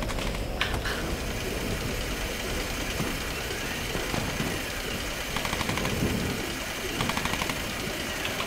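Gunfire in the Tomb Raider video game, heard as sharp bursts over a dense, noisy game soundscape with a low rumbling bed and brief clustered cracks throughout.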